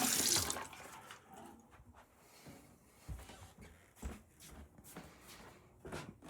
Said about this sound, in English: So we'll just take this, dump it in the sink here,